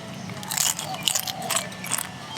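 Crunchy fried pork and tofu being bitten and chewed up close, with a few sharp crackling crunches over about two seconds and no talking.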